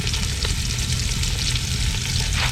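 Chopped onions frying in a pan for a village-style duck curry, a dense, loud, constant sizzle with steady crackle, heard close and uninterrupted, without any talking.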